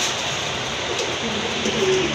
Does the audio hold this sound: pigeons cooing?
yes